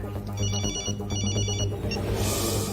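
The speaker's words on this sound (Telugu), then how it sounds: "రింగ్ అవుతుంది కానీ ఎవరు ఎత్తట్లేదురా" A telephone rings in repeated electronic bursts, loud and close, over a low steady hum, and nobody picks it up.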